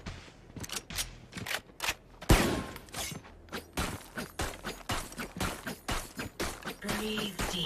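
Rapid bursts of video game gunfire crack in quick irregular succession, one sharp louder shot standing out, fairly quiet overall with no talk.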